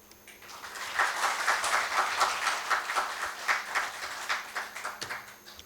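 Applause from the audience at a medical allied science talk, a dense, steady wash of many hands clapping that swells quickly and holds, then thins toward the end.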